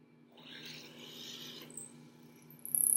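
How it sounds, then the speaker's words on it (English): A drill press cuts through a piece of wood in a maker space, giving a quiet rasping grind that lasts about a second and then fades. "I hit the drill, hold it steady,"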